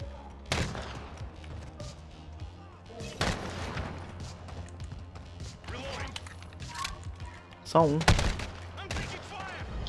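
Gunshots crack in a multiplayer video game shooter, a few sharp bursts and thuds spread across the stretch, loud and close, while a player talks over the action.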